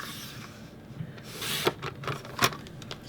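Paper edges trimmed for a travel album, a soft rasping rub with a couple of sharper cutting swipes near the end, close and fairly quiet with no talk.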